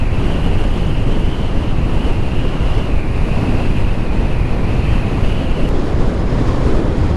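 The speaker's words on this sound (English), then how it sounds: "It's quite windy as well." Strong, steady wind roars and buffets the microphone on a high mountain road near Khardung La in Ladakh, a loud continuous rush with no voices.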